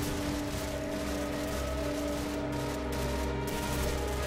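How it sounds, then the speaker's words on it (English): Frag grenades and gunfire in Call of Duty 4 make a dense, continuous rumble of battle, with repeated blasts and shots merging into one another and no talking. "Frag grenades just going everywhere."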